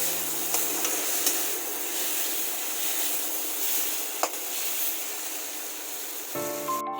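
Tomatoes frying soft in a pan for momo chutney, a quiet continuous sizzle and hiss with a faint low hum that fades out partway through, then a brief tonal sound near the end.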